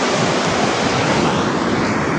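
Sea waves wash steadily along the shore at Puri, a continuous broad roar of surf with no voices, filling the short stretch evenly.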